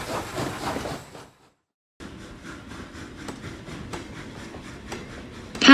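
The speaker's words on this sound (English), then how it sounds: "Tank locomotive." A tank locomotive runs past after a short pause, its wheels clacking rhythmically over rail joints with a steady rumble, fairly loud, ending in a sharp louder burst.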